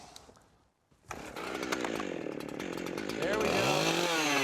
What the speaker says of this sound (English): Then see if the chainsaw will start.